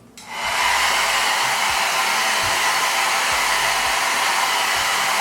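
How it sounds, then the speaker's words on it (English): A hair dryer switches on and blows with a steady, loud whooshing hum, running continuously without any talking. "use a blow dryer to comb my hair"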